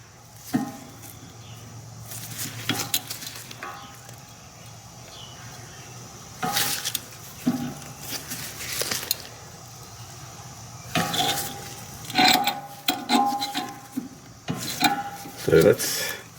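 On a Nissan Maxima, a rotating caliper reset tool winds a brake caliper piston back, giving intermittent close scraping, clicking and ratcheting bursts separated by quieter pauses, with faint background hum.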